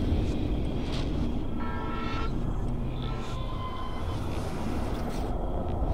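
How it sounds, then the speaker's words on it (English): A train in Life Is Strange Remastered rumbles past amid a dense, noisy game soundscape, sounding a horn briefly partway through. "there's a train! There's a train!"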